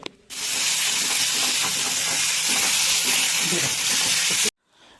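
Chicken liver masala frying in a pan without water, a loud, steady close sizzle and hiss that starts abruptly, runs for about four seconds, then cuts off.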